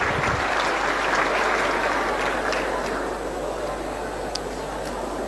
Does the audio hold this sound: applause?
yes